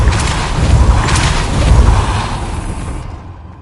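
Depulso spell impact in Hogwarts Legacy on PlayStation 4 Pro: a loud, deep booming blast with a rumbling tail that swells and slowly fades over about three seconds, then cuts off.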